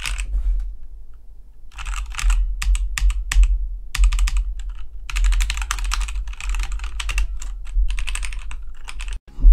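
Mechanical keyboard typing on an e-Yooso Z88 with a metal plate and red switches, heard as bursts of fast, close clacking keystrokes with short pauses between runs, no voices.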